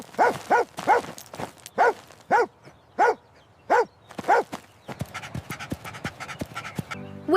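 A dog in an animated story barks loudly about ten times in a quick, uneven run, then the barking gives way to softer rustling and scuffling noises.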